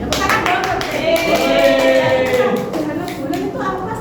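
Classroom applause in a microteaching lesson, a steady round of clapping from a group of students lasting several seconds, heard close, with voices speaking over it.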